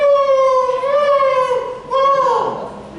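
A human voice imitates an ambulance siren stuck in a traffic jam, with two loud, wailing tonal sweeps that rise and fall over about three seconds.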